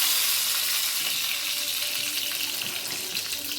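Stuffed parwal (pointed gourd) frying in hot oil for a curry: a loud, dense, continuous sizzle with a bright crackling hiss that stays even for the whole stretch, and no one speaking.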